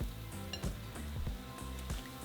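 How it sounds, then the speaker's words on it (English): Tortillas sizzle and crackle steadily in hot oil with a few sharp clinks of utensils against the pan, loud and close. "we're going to throw in our tortillas"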